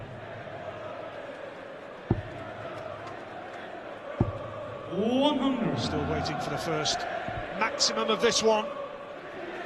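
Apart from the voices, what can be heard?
darts crowd noise at Birmingham venue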